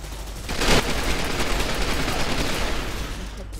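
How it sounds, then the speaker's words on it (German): Automatic gunfire from a shooter video game with 30-round magazines: a sustained, loud rattling burst of rapid shots lasting several seconds, with a sharper peak early on and no talking. "jetzt muss ich aber erstmal wieder nachladen, weil 30 Schuss ist jetzt nicht so viel."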